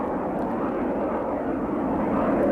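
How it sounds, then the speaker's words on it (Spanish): F-117A Nighthawk stealth jet flying over Baghdad, a loud, steady broadband aircraft roar that holds without a break and swells slightly toward the end, with no voices. "Muchos de esos ataques contra Bagdad fueron causados por decenas de pequeños aviones negros y angulosos que volaban sin ser detectados en la oscuridad."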